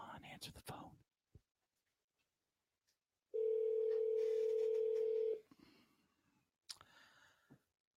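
Telephone ringing on a live call during a Cleveland Browns sports talk broadcast: one long steady electronic ring tone, loud and alone for about two seconds, with clicks and brief voices before and after.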